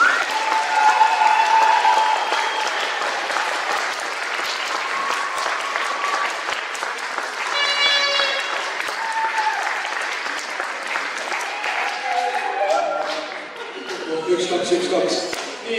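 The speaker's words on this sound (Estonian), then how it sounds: "Teeme selle suure aplausi." Big applause from a school celebration audience fills the room, dense sustained clapping with a few voices and cheers mixed in, swelling and holding for the full length before thinning slightly near the end.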